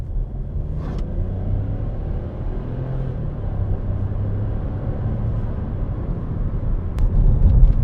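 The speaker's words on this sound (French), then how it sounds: "Je vais peut-être me mettre en mode sport et accélérer directement." A Hyundai Bayon hybrid SUV accelerates in sport mode, heard from inside as a steady low engine rumble and road drone that builds gently toward the end, without talk.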